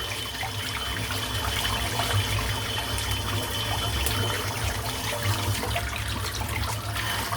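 Lukewarm tap water runs steadily from a faucet to rinse a Simpson Chubby 2 shaving brush: a continuous, even gush and splash lasting the whole stretch, with no voices.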